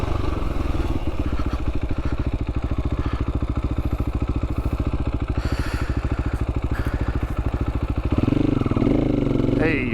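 A motorcycle on a Colorado singletrack trail, its engine chugging in a rapid steady pulse close by, then revving harder near the end as it pulls away.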